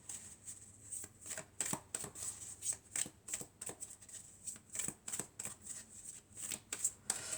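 Triade oracle cards being shuffled by hand, a rapid run of crisp riffling flicks in an uneven rhythm, close and fairly quiet, with no voice.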